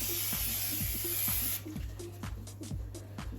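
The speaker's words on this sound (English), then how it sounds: "I'll spray it everywhere in the gas cooker inside" A spray bottle of Mr. Muscle kitchen cleaner hisses in one long burst inside a gas cooker, then sputters in shorter squirts, close by with faint rhythmic thumps underneath.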